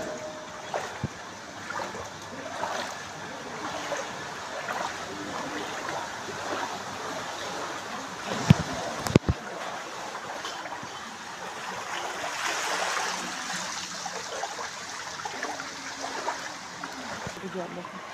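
Floodwater spilling out of ponds after heavy rain and running through flooded village homes, a steady broad trickling rush that carries on throughout with a brief sharp knock partway through.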